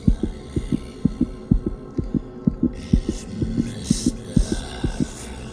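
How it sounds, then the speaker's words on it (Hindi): A steady heartbeat pulses in a quiet room, about two dozen low, evenly spaced thumps under a soft hum, with faint hiss and rustle rising toward the end. "उसके दिल की धड़कन उस शांत कमरे में साफ सुनाई दे रही थी।"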